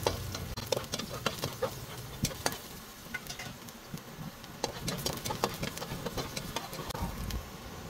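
Chopped garlic frying in a hot pan on the way to golden brown, a steady close sizzle broken by repeated sharp scrapes and knocks of a utensil stirring it, with no talking.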